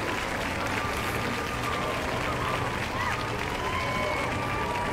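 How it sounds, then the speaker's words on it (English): Continuous crowd applause forms a dense, steady wash of clapping at constant loudness, with faint voices mixed in. "I'll give him a round of applause for that."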